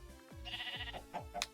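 Sheep bleating in the video game Minecraft, a few short close bleats in quick succession, clear and alone with no talk over them.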